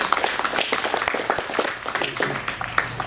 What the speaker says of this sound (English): So give our contestants a big round of applause